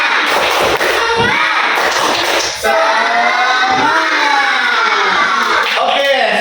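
An Indonesian classroom of children claps a rhythmic spirit clap, with thumping patterned claps and loud chanting voices filling the room, and a brief dip in the middle.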